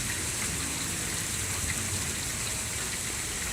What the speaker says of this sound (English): It's like raining really hard outside.